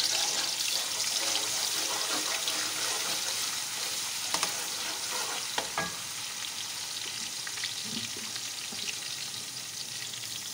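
Masala with garlic and ginger sizzles in a pan for chicken badami qorma, a steady, loud frying hiss with occasional clinks and scrapes of stirring and no voices.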